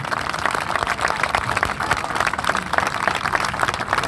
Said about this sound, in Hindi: तो ये आप सब लोगों के लिए तालियां एक बार।